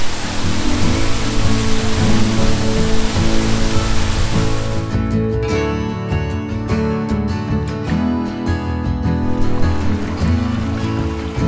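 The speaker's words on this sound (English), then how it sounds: "The sound of the wind and the waterfall is pretty intense." Stillbrook Falls in Cape Breton Highlands National Park, where a waterfall and strong wind make a loud, constant rushing roar. A steadier, humming tone joins the wash partway through, and no one speaks.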